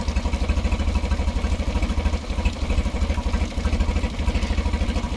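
A Mercury F9.9 ELPC outboard motor idles steadily after a carburetor replacement, a close, even, rapidly pulsing mechanical chug with a slight clatter and no talk.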